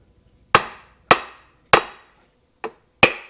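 Five sharp, hollow knocks of a plastic hammer on a Kawasaki F7 Bushwacker engine casing, evenly spaced about half a second apart, close and distinct with quiet between.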